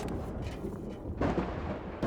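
A flashbang detonates in the video game Indiana Jones and the Great Circle, a loud, muffled boom that swells about midway through, set amid dense, rumbling in-game noise.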